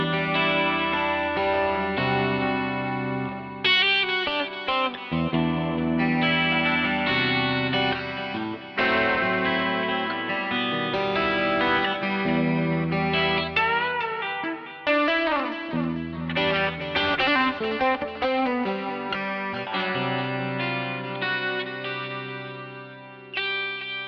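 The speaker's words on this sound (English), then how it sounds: "Now for boosting with full bass." An electric guitar played through a Tonefreak Naked OD overdrive pedal with full bass boost gives thick, warm, distorted chords and single-note runs, loud and continuous, with heavy reverb and no talking.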